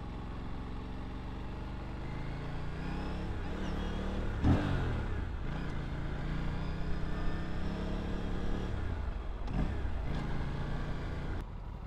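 A motorcycle engine revs repeatedly while being ridden, rising and falling through gears with sharp throttle blips, close and steady throughout.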